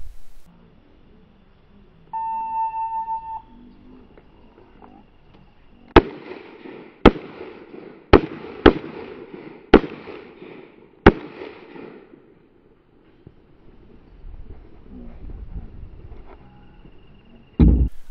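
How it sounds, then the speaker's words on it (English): Pistol shots ring out at a shooting match stage, six sharp, loud reports in quick irregular succession after an electronic start beep, followed by a quieter stretch and a final bang. "These targets are engaged in tactical sequence with a stage specification of 2 rounds per target."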